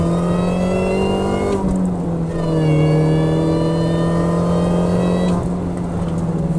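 A 260 BHP Mini Cooper racing car with a 1.6 engine roars close by, holding a loud, steady pitch with a couple of brief gear-change dips. No one talks.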